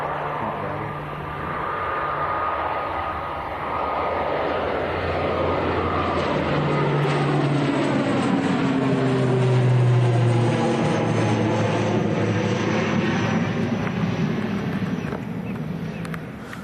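An ATR turboprop airliner rolls down the runway on takeoff at Manchester Airport, its propeller drone rising and shifting in pitch as the engines power up, loud and sustained from a distance.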